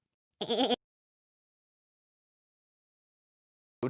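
A short, close goat bleat with a shaky vibrato, followed by a long silence and the brief start of another bleat at the very end.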